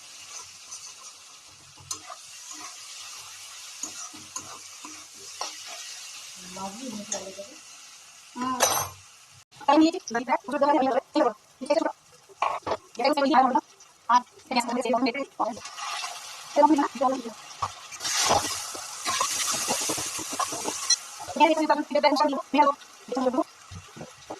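Chicken sautéing in a pan with onion, capsicum and spices, sizzling and stirring with scraping and clinks of a spatula, while someone talks intermittently over the cooking noise.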